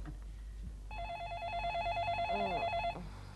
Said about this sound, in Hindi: देव फोन उठाओ